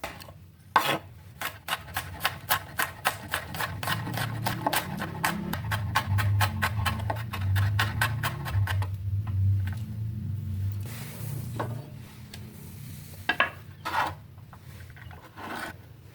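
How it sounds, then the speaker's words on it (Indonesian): Five peeled garlic cloves are crushed with one sharp knock, then coarsely chopped with a knife on a board in a quick, steady run of taps, followed by scraping and a few scattered knocks. "Lalu dikeprek dan dicincang kasar."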